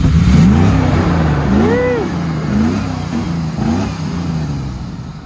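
A Dodge Durango engine roars loudly nearby during a burnout, rising and falling through several revs with a rough, throaty tone.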